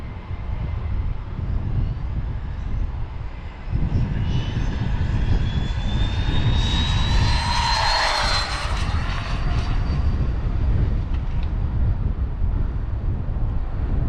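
A Team Corally Python 6s RC car runs on GRP tires with a loud, continuous motor whine that rises and falls as it accelerates and passes, over steady wind noise; a voice can be heard briefly.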